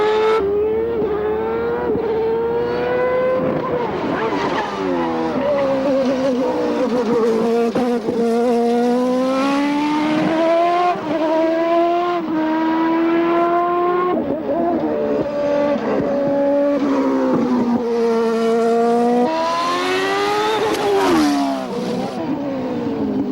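An Indycar racing car with a manual gearbox drives laps, its engine screaming through repeated upshifts and downshifts with rising and falling pitch, loud and close throughout, without talk.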